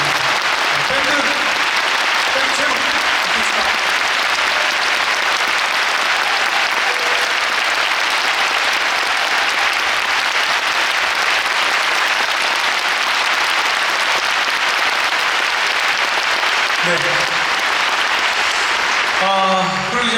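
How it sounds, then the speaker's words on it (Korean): Sustained applause from a large concert audience at Sejong Center fills the whole stretch, dense and even, with a few faint voices near the end. "다시 한 번 박수 부탁드립니다"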